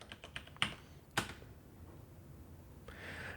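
A computer keyboard typed on for a password: a rapid run of soft key taps followed by two sharper, louder strokes, then quiet room tone.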